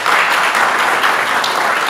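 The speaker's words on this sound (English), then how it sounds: "please give a warm round of applause for our panelists" Steady audience applause for panelists at a talk, dense even clapping filling the room, loud and close with no gaps for the whole stretch.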